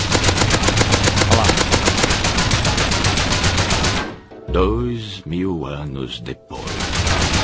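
Rapid automatic AK rifle fire in the game Rust, a long, loud, steady burst that stops abruptly, then someone talks briefly before the sustained gunfire resumes.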